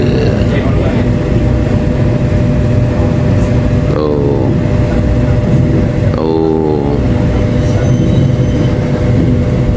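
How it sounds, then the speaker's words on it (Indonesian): An executive-class Ranggajati passenger train pulling into Tanggul station: a loud, constant rolling rumble from inside the carriage, with two brief metallic wheel squeals as it slows. "ini kita akan berhenti di stasiun Tanggul."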